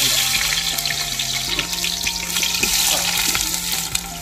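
Five to eight sliced onions going into hot oil in a pan for a Wayanad beef and trotter curry, a loud busy crackle and sizzle with clattering stirs and bubbling.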